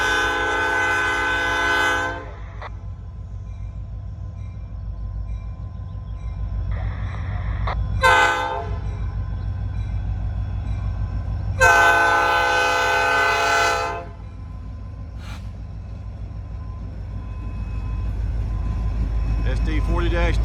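An SD40-2 freight locomotive rumbles past on a rail line by an industrial spur, sounding three loud horn blasts, one long, one short, then a longer one, over a steady low roar of rolling cars.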